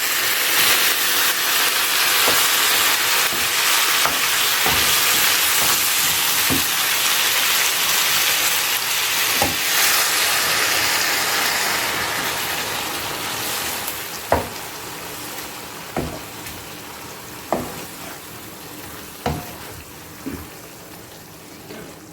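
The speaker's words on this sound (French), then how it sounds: "je rajoute de l'eau sur le côté" Water poured along the side of a hot frying pan, the one used to cook chicken with olives, throws up a broad hissing sizzle that slowly fades, punctuated later by several sharp clinks of utensils against the pan.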